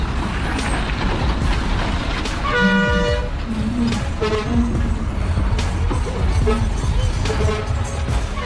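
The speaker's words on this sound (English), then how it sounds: "The train whistle echoes, blending with the rumbling of the wheels on the tracks" Steam train passing the Ovada level crossing in Italy, its whistle blasting in short tooting bursts over a continuous loud rumble of wheels on the track.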